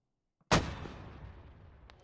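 A single loud mortar round fires in ARMA, a sharp blast that rolls off into a long, fading echo.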